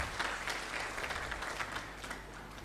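An audience at an Islamic sermon claps in a brief, fairly faint patter of applause lasting a couple of seconds, with scattered sharper claps standing out from the crowd.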